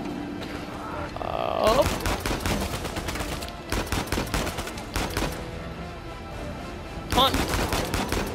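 Gunshots ring out in the video game Uncharted 4, a dense run of loud rapid shots and bursts that fill most of the stretch, with brief pauses between volleys. A player's short exclamations come over the gunfire.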